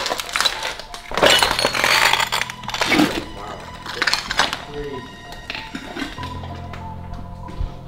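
Shards of broken glass clink, crack and tap in an abandoned hotel, with irregular bursts of scraping and tinkling close by while people talk.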